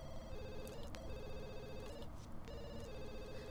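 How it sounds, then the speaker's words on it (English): A telephone rings in The Sims 2, a repeating electronic trill in two bursts separated by a short gap, heard over steady low game background noise with no talking. "Do you want to answer the phone?"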